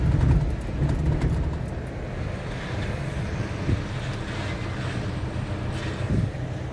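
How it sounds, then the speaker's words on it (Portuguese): A large truck rolls along a residential street, producing a steady low rumble and broad road noise with some wind buffeting the microphone, and no talk. "o tamanho do caminhão que tá passando aqui pela rua Esmeralda"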